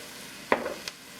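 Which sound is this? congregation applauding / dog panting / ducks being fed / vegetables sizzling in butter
vegetables sizzling in butter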